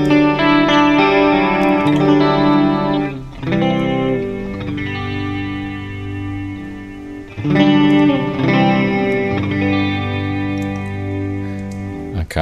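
Sustained electric guitar chords through the Pro Tools Eleven amp simulator ring out with a washy reverb tail, processed with chorus-like shimmer, loud and upfront, chords changing every few seconds.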